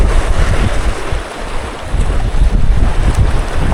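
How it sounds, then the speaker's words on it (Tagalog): Strong wind gusting over a fishing boat at sea, a loud, continuous roar and rumble of wind buffeting the microphone with no talking. "Yung hangin di na talaga tuloy-tuloy na ganyan kalakas."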